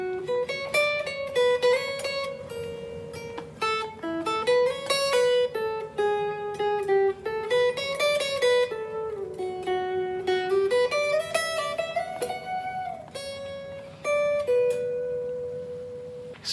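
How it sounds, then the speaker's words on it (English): Guitar arpeggios with scale tones filling the gaps between chord tones; a continuous flowing line of picked single notes, clear and close, with no talking, closing on a sustained final note. "The next thing you can do is add some scale tones between those chord tones."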